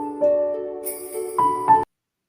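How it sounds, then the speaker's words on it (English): A brief, bright festive melody of sustained tonal notes with a chime-like sparkle, ending abruptly after about two seconds. "there's some Christmas music"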